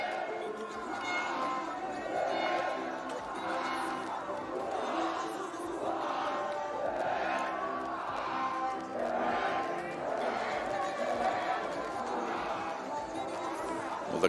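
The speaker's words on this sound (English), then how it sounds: "The crowd's getting full-throated here." A stadium crowd roars and chants in waves at a Kenya versus Nepal T20 cricket match in Nairobi, heard at a distance as a continuous full-throated din with no clear single voice.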